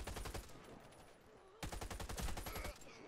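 Rapid gunshots from an A3 H-Bar rifle in a video game, quick rhythmic bursts in two strings separated by a short pause, fairly faint overall.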